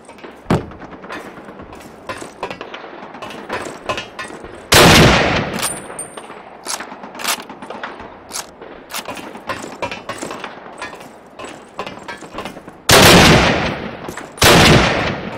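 Bursts of automatic gunfire in Call of Duty multiplayer, mostly quick rattling volleys with a few heavy, loud sustained blasts, over a steady background of game noise.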